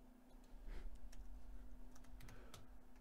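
Keys clatter on a computer keyboard in bursts of quick clicks over a steady electrical hum, close and moderately loud, with no talking.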